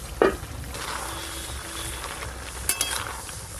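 A metal spatula scrapes and knocks against a pot while breaking up bori, potato and eggplant in a drumstick-stalk curry, with two sharp clinks about two seconds apart over a steady simmering sizzle.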